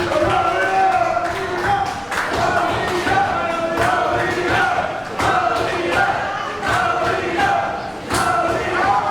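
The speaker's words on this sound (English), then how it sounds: "The crowd at the Sportatorium tells the story." A women's wrestling crowd at the Sportatorium roars and cheers continuously, a loud dense wall of voices with periodic swells and thuds of action, with no break across the span.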